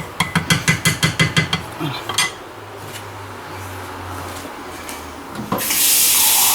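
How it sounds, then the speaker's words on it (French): Water runs from a tap into a pot of lasagna sauce, steady pouring after a quick series of sharp metallic knocks, ending in a louder rush of water. "faut pas hésiter à mettre de l'eau parce qu'on va faire réduire pendant une demi-heure"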